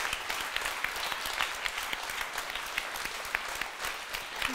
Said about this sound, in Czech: my teď zatleskáme těm našim nej